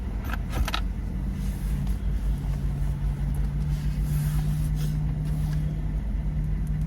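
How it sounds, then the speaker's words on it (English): A car's steady engine rumble continues throughout, close by, with a brief jangle of keys near the start and no talking. "I'm finna move my car up"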